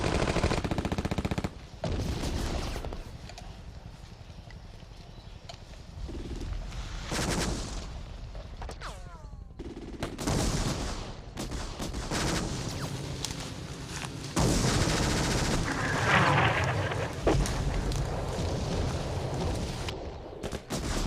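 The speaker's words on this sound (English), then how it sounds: "NVA all over their former position," Sustained gunfire from North Vietnamese Army troops in a Vietnam War battle near LZ Albany, with dense bursts of rifle and machine-gun fire and heavy booms continuing loud throughout, no talk.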